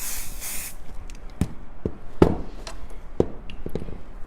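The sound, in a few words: spraying a quilt with a spray can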